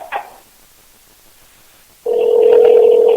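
A telephone line on a call-in podcast gives a short chirp, falls nearly silent for almost two seconds, then a loud, steady electronic ring tone starts and holds to the end.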